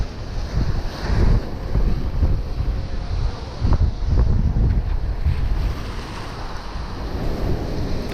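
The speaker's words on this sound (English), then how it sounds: "The waves were hitting the rocks pretty hard." Ocean waves crash against the rocks of a jetty at Packery Channel in Corpus Christi, Texas, a loud, close surging rumble with repeated surges, heavily mixed with gusty wind buffeting the microphone.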